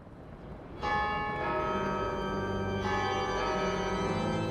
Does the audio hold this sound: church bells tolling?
yes